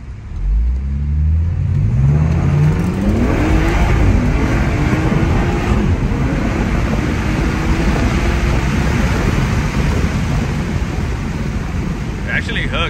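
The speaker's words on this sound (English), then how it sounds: "I'm gonna try to do like a little first, second gear pull." A BMW F30 is floored hard through first and second gear. The engine note climbs steadily, then gives way to a loud, constant roar of wind and road noise close to the microphone.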